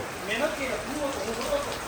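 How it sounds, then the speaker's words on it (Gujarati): Heavy rain pours steadily outdoors during a family ceremony at home, a continuous broadband wash with a few soft drips, while people talk faintly in the background. "જો અત્યારે જ વરસાદ આવ્યો, બધી વસ્તુ તાત્કાલિક લેવી પડી"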